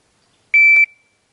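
A shot timer at a handgun training session gives a single sharp electronic beep, loud and close, lasting about a third of a second, then silence.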